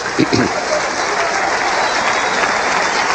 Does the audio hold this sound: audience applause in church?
yes